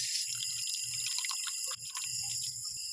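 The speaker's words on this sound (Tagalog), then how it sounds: "dagdagan ko ng tubig ito, nahubas na" Water trickles and drips steadily onto a pruned potted plant, close and continuous, with small splashes and a soft low murmur underneath.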